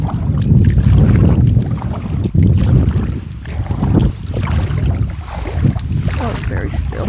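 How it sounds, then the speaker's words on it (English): A boat is paddled across calm water with a light breeze, giving low, rumbling wind buffeting and soft water sloshing that run continuously and close to the microphone. "We'll just keep paddling."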